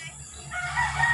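Gamefowl rooster conditioned for cockfighting crowing once, a short rising call heard fairly close over faint background noise.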